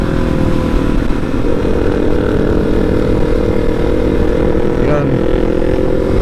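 A KTM motorcycle engine drones steadily and loudly throughout while riding on a Sunday road trip in Negros Occidental, a constant low rumble with little change in pitch.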